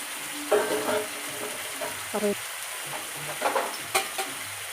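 Chicken liver frying in a pan gives a continuous hiss and sizzle, broken by a few scraping stirs and brief voice fragments in the background.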